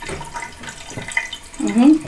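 Water runs from a bathroom tap in a flat under repair, a close, uneven splashing stream mixed with people talking nearby.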